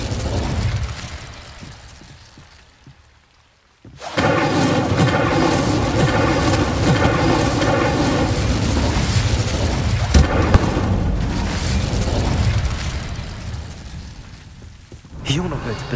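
An Incendio fire spell bursts out in Hogwarts Legacy, a loud roaring whoosh that starts abruptly and sustains for several seconds before fading, with voices talking around it.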